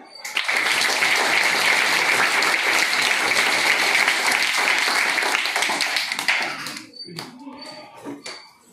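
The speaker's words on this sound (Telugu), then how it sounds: "ఒకసారి గట్టిగా చప్పట్లు కొట్టండి." A crowd of schoolchildren claps loudly and rapidly for several seconds at a school in Madduru, then the applause trails off into scattered claps and a few voices.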